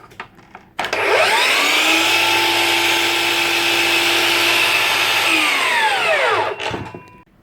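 Dewalt DGD780 54V cordless miter saw fitted with a new motor spins up, holds a loud steady whine for about six seconds, then winds down to a stop.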